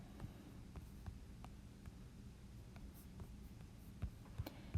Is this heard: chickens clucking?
no